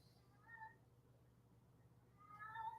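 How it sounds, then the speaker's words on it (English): A pet cat meows twice from another room, faint and distant, with a low room hum underneath. "My cat's meowing out there because he likes to do that."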